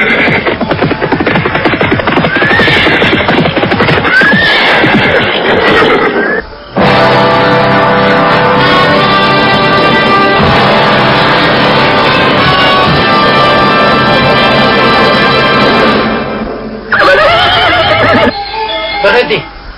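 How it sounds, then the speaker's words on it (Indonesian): A group of riders on horses approaches in a dramatized radio play, with loud whinnying and a rushing, dense musical bed over it, close and intense, and effects and voices layered together. "mendadak terdengar rombongan orang-orang berkuda mendekat"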